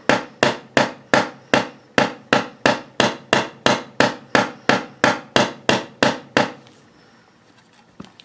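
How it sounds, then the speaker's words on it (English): A hammer tapping the frets along the neck of an electric guitar, about sixteen sharp, evenly spaced knocks at close range, then quiet. "I'll beat this guy with a hammer a bit."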